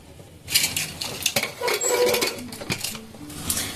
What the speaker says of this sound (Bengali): ব্যাস, এবার আমি ঢাকাটা দিয়ে দেব।